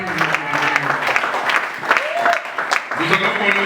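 A church congregation at a seminar claps and cheers in praise of God, a dense burst of applause and voices rising together over a preacher's speech, close and lively.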